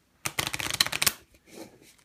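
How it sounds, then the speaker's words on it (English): A deck of playing cards being shuffled with a quick run of crisp riffling flutters, followed by a few softer taps as the cards settle. "I'm going to shuffle these up"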